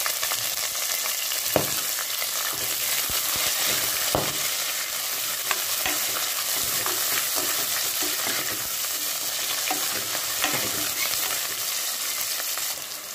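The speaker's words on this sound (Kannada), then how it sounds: "ಬೆಳ್ಳುಳ್ಳಿ ಸ್ವಲ್ಪ ಫ್ರೈ ಆದಮೇಲೆ ಅದಕ್ಕೆ ಒಂದು ಸಣ್ಣಗೆ ಕಟ್ ಮಾಡಿ ಇಟ್ಕೊಂಡಿರೋ ಈರುಳ್ಳಿ ಹಾಕ್ಕೊಂಡಿದ್ದೀನಿ" Finely chopped onion frying with garlic in hot oil for sambar. A loud, continuous close sizzle runs throughout, with scattered clicks and knocks from stirring.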